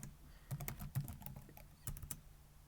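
Keys tapped on a computer keyboard while entering commands into a programming console, a short, quiet run of irregular clicks up close with no talking.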